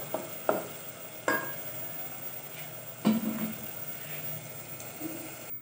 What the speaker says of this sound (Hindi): थोड़ा सा मसाले को भूनते हैं